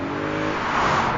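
A 2013 Audi RS5's 4.2-liter V8 pulls steadily, a brief loud, dense engine drone with harmonics that shift slightly as it revs, close up and with no talk.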